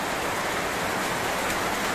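Heavy rain pours steadily, with water dripping through a leak in a roof during a downpour; a dense, constant hiss fills the whole stretch with no pauses.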